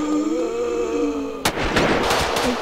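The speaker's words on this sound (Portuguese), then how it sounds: "O pessoal atirando nos zumbis." Gunfire aimed at zombies in the GTA Wasteland post-apocalyptic mod: a loud burst of rapid shots erupts suddenly after a steady tonal game hum and keeps cracking repeatedly to the end.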